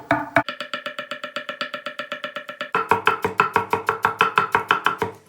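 Quick, steady knife chops on a cutting board, dozens of even strikes in a fast rhythm, growing slightly louder partway through, chopping fresh dill and parsley up close.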